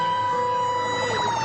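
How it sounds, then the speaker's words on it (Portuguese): A loud steady siren tone holds, then begins to waver near the end. "Ele ouviu a sirene e saiu rápido para liberar o trânsito."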